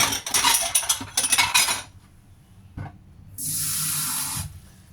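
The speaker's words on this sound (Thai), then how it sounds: "ตามด้วยน้ำนิดหน่อย" Water poured into a pan while making black sesame dessert with coconut cream topping, heard as a few splashy pours and clinks, then a steady hissing stream near the end.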